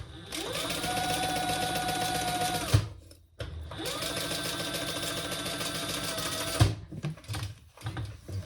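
A sewing machine top stitches a crossbody bag in two sustained runs of fast, even whirring, each ending with a clunk and a brief pause, followed by a few scattered knocks, close and clear.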